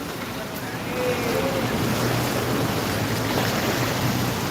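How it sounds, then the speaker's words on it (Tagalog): Waves wash through floodwater in a flooded street in Nabua, Camarines Sur, a broad rushing swash with wind noise on the microphone, continuous and fairly close. "Ayan ang alon."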